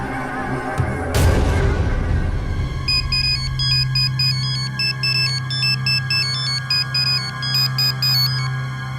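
A phone rings repeatedly and goes unanswered, a steady electronic ringtone pattern starting after about three seconds, layered over a low hum and an earlier crash-like burst, with no talking.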